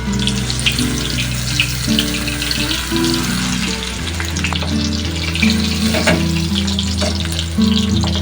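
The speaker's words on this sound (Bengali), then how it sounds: "ফুলকপিটাকে ঘুরিয়ে ঘুরিয়ে ভালো করে ভেজে নিতে হবে।" Cauliflower pieces shallow-frying in oil in a pan, a steady loud sizzle with intermittent scraping and clinks as they are turned, without any talking.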